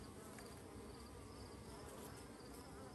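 A dense, constant buzzing of a bee swarm at night fills the air, steady and unbroken throughout.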